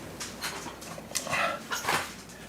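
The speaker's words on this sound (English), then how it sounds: "Oh, go away, dog." A dog whimpers faintly and shuffles about indoors, with light clattering like a bowl or cupboard being nudged, several short soft bursts across a couple of seconds.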